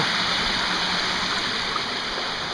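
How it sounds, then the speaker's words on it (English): Rushing water pours steadily over Sandiaoling waterfall, a dense, continuous broadband roar heard from the very edge of the drop, loud and unbroken with no voices. "I'm now sitting on the precipice of the waterfall"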